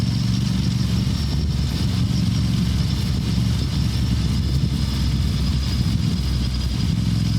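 An Aprilia Tuono 457 motorcycle engine hums steadily while the bike is ridden in fourth gear at low speed, a close, continuous low drone with wind rumble and no sharp knocks or revving.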